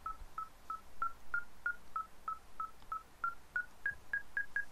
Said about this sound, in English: this thing is losing its mind, beeping like crazy